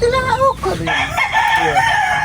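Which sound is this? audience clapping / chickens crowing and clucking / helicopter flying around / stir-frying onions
chickens crowing and clucking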